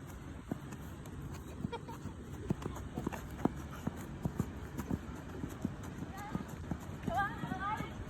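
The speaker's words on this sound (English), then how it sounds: "We have to be quiet because of the horses." Horses' hooves clip-clop steadily on the floor of a farm barn, a run of sharp, moderately close knocks over low background noise, with a faint bird call near the end.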